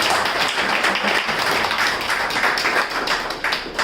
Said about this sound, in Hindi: मन से तालियां बजा के उनको हम लोग और तालियां बजानी पड़ेगी